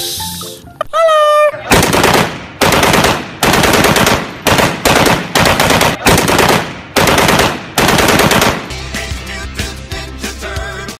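A toy M16 gun plays a loud electronic shooting effect: bursts of rapid machine-gun fire come again and again with short gaps between them, preceded by a brief rising electronic tone, and no one talks.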